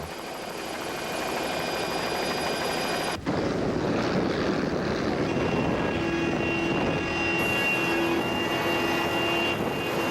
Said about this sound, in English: We got a chopper just about to land on a boat.